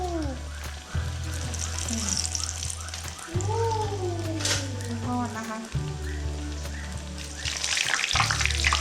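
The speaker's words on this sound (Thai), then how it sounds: "นี่แล้วก็เอามาทอดนะไฟมาแล้ว" Ice cream fries in hot oil with a steady bubbling sizzle over a low hum. A child and an adult talk and make excited sounds over it almost all the way through, and the frying swells near the end.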